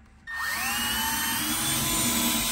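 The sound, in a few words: power drill boring into a piece of wood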